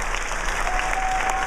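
Steady audience applause from a crowd of guests aboard the Celebrity Solstice cruise ship, dense continuous clapping at even loudness throughout, with no break.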